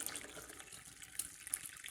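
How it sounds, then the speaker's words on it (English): Hot water pours through a paper coffee filter over a cup, a brief close trickle and splash with a hissy wash of running water. "You can wash it using the water you just heated in the cup in your coffee cup"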